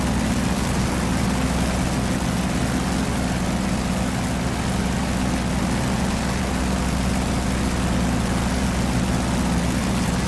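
F4U Corsair propeller aircraft engine in a flight game, a steady, loud, dense drone with a heavy low rumble that holds constant throughout, with no other sounds.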